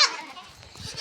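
A village goat bleats, with a short nasal cry at the start and another at the end, while faint voices and children's chatter carry in the background.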